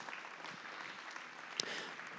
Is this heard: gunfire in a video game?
no